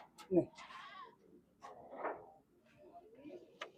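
A few short goat bleats at moderate distance at a goat market, separated by quiet gaps, with an abrupt knock near the start.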